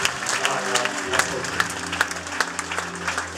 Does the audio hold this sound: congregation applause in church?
yes